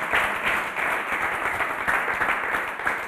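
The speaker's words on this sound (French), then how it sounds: "On applaudit très fort." A show audience applauds loudly for a celebrity lookalike performer, a continuous dense clatter of many hands with small swells, staying strong to the end without any speech.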